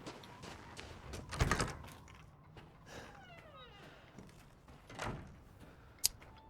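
Wood creaking in Resident Evil Village: faint, drawn-out groaning creaks with scattered soft clicks and knocks in a quiet game scene, ending in a sharp tap.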